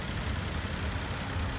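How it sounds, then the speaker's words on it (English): A 2014 Nissan Pathfinder SV 4x4 with a 4-liter V6 idles in a steady, even low rumble that stays close and constant without any revving. "Nissan's 4-liter V6."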